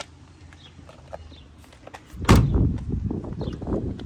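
Doors of a 1964 Ford Fairlane barn find shutting, one solid heavy thunk followed by a short burst of further knocks and rattles, close and fairly loud after a quiet stretch.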